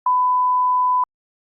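A single steady censor beep, a pure tone held loud and clean for about one second, cuts out speech completely before stopping abruptly into silence.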